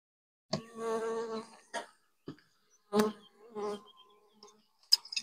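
A honeybee colony buzzes in an opened hive, heard close up as short, uneven bursts of droning rather than a steady hum.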